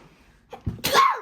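A child sneezes once, close and sharp, with a short breathy intake before the burst and nothing after it.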